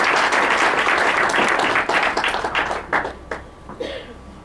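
An audience gives a professor a lively round of applause, dense clapping from many hands at first, then tapering into a few separate, sharper claps as it dies down.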